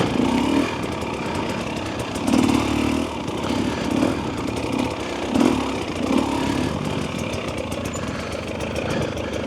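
A 2025 Husqvarna TE300 dirt bike's engine runs while being ridden through the gears, a close, buzzing drone that rises and falls in uneven surges.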